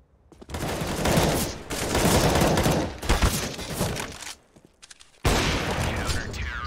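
Rapid automatic gunfire in the video game Counter-Strike: sustained loud bursts of shots with brief gaps between them, close and dominant.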